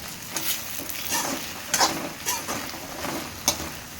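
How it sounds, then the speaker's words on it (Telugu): Egg fried rice frying and being stirred in a pan, fast-food style, with a steady sizzle broken by several scraping stir strokes close by, no talking. "మళ్ళీ ఈ కలర్ వచ్చేదాకా ఫ్రై చేస్తాం"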